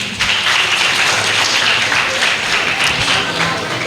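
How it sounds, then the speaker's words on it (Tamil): An audience breaks into steady, dense applause for a choir at a church jubilee song competition, loud and continuous throughout, with faint crowd murmur beneath. "அவர்களுக்கெல்லாம் ஒரு கைதட்டு கொடுங்க"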